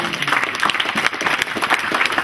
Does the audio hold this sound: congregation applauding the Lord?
yes